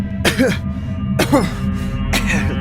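Three harsh, bursting coughs spaced about a second apart, fairly close and loud over a steady low background hum.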